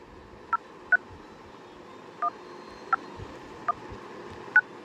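Mobile phone keypad tones while a code is entered, with six short, faint beeps spaced irregularly over a soft background hiss and no speech.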